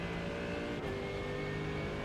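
Mercedes GT3 race car accelerating on throttle in the iRacing video game at Road America, a steady, loud engine note pulling up through the revs, alone and without talk.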